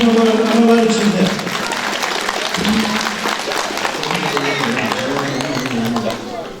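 A crowd at a Turkish wedding claps steadily in a dense wash of applause while voices and some tonal sound carry on underneath.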